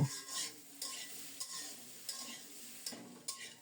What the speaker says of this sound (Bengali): লবণ দিয়েও আরও কিছুক্ষণ ভেজে নেব আলুগুলো